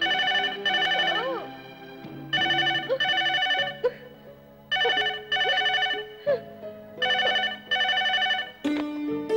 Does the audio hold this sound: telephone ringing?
yes